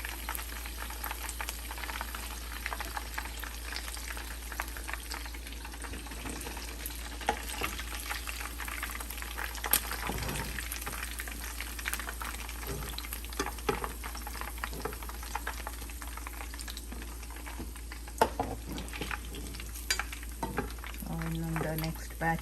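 Chicken wings for a kebab dish fry in hot oil, a faint, steady bubbling sizzle with occasional pops and a few utensil knocks, fairly quiet and continuous.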